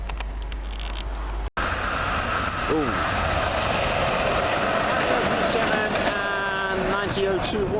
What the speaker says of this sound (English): Well, finally our train is coming.